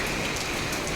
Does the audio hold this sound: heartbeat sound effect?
no